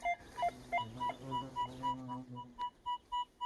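A handheld metal detector sounds a series of short, clean electronic beeps in a regular rhythm, with a low warbling tone beneath the first part, then sharper evenly spaced pulses; nothing else is heard.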